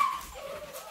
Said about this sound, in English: Hey, quit barking at me!